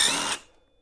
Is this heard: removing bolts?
yes